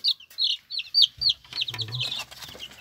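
Silkie chickens cluck close by, a run of short, sharp, regularly spaced clucks that give way to softer, busier clucking and murmuring, with no talk.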